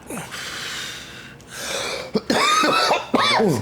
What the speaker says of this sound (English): First cough.